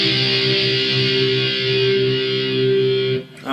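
Electric guitar with distortion holds a sustained, buzzing chord through the next part of a verse of a song, steady and loud for about three seconds before cutting off.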